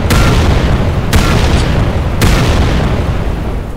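Rocket explosions in the Roblox game Trident Survival: three loud booms about a second apart over a dense, continuous rumble of noise, with no talking.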